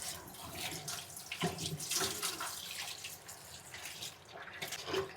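Goat tripe (vajri) being washed clean under a running kitchen tap after boiling: a steady rush of water with splashes and irregular spattering as the tripe is handled in the sink.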